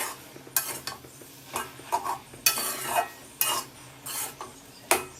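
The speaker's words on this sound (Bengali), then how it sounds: "ঢাকনাটা তুলে শাকটা নেড়ে দেবো" Mixed fresh field greens being stirred in a covered pan on the stove, heard as repeated scraping, clattering strokes about once a second over a faint low background, with no talking.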